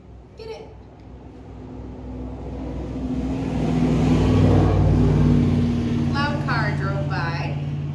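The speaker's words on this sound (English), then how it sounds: "Car drove by" A car passing on a road near someone training a young puppy outdoors, its engine swelling from a distant hum to a loud, close roar and then easing away as it passes.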